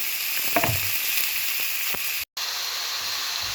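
Chopped carrot and cabbage hitting hot oil for a Vishu Sadya dish, a bright sizzling hiss with a few sharp clicks and stirring knocks near the start, then steady frying with a brief dropout.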